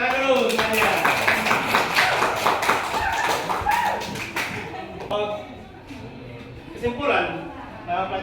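A class claps together in a run of sharp, rhythmic claps for about four seconds, mixed with voices, before the claps fade and talking continues.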